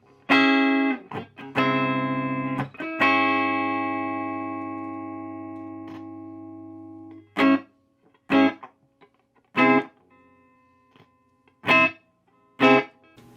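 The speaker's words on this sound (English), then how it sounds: "I'm going to test the reverb, and then we're going to try the distortion channel." An electric guitar plays through a Peavey Revolution 112 amp with its reverb up, starting with sustained chords that ring out, then short sharp strummed stabs separated by silence, with only a faint reverb tail.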